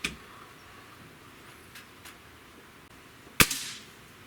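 A Ruger Air Magnum .22 caliber breakbarrel air rifle fires one sharp, loud crack, preceded by a few faint clicks and light handling noise.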